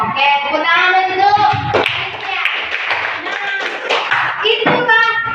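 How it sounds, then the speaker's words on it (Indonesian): Children in a classroom clapping their hands: a lively, irregular patter of claps under chanting young voices, close and fairly loud. "tepuk tangan dulu"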